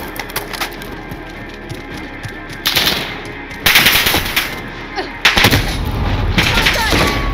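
Rapid automatic gunfire in Call of Duty: Modern Warfare Warzone, loud bursts stacking into dense volleys with sharp cracks, intensifying over the stretch with heavier fire near the end.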